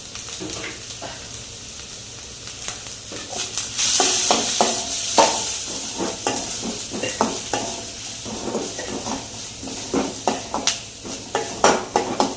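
Onion frying in a spoonful of ghee for paneer ghee roast, a steady close sizzle with repeated sharp scrapes and clinks of a spoon stirring against the pan, growing busier and louder partway through.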